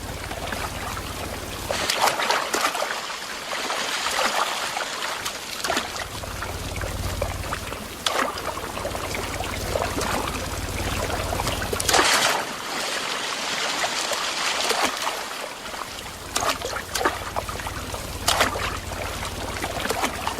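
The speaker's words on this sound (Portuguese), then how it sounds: "na Mata Atlântica, sempre tem um riacho por perto" A forest stream in Brazil's Atlantic Forest runs with a continuous close trickling and splashing flow, swelling and easing in slow surges over its length, with no voices present.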